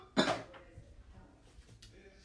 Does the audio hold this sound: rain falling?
no